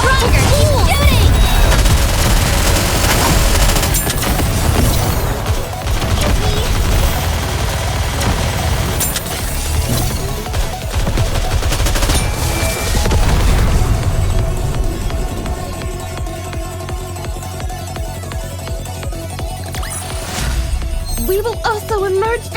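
Gunfire and explosions from the Nikke video game rumble in a dense, continuous barrage, with heavy booms and rapid bursts layered under intermittent voices.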